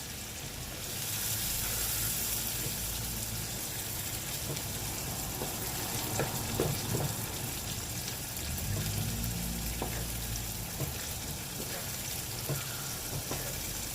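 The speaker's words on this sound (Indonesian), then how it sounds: "Kita aduk-aduk sampai merata." Cilok balls are stirred in a pan over a constant frying sizzle, with soft scraping and clinking of the utensil against the pan and no talk.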